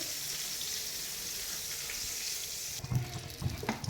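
Eggplant fries in oil in a pan with a steady, moderately soft hiss, then a few clinks and knocks of utensils toward the end.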